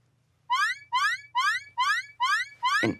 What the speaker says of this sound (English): You set off the alarm.